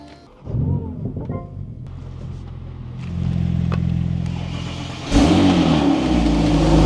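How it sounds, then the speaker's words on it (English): A BMW G80 M3 engine fires up on a cold start, rising to a loud sustained high idle that climbs again into a louder rev, close by and unbroken, with no talking. "Trying to let the cold start run out because it's 10:30 at night"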